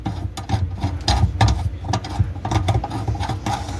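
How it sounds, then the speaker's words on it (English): A tool works loose the bolts of a garbage disposal mounting plate, a close, busy clatter of small metallic ticks and scrapes with an uneven rhythm, steady and fairly loud throughout. "So these bolts here, you want to remove those."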